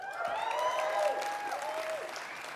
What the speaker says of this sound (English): You give yourselves a little round of applause for that.